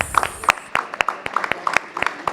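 Sparse, scattered handclaps from a small audience at a panel discussion on the future of the vehicle after-sales service business, sharp, separate claps in an uneven rhythm that never builds into full applause.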